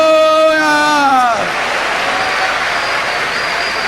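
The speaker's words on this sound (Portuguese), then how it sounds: "Vamos dar um aplauso ao Senhor." A church congregation bursts into applause at a New Year's Eve service, the clapping rising just after a sung or spoken phrase ends and then holding as a dense, steady wash for several seconds.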